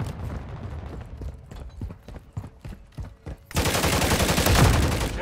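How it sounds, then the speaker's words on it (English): Gunfire in the Call of Duty: Modern Warfare III video game, a string of sharp single shots in the first half followed by a sudden loud continuous burst of firing and noise. "I'm taking effective fire"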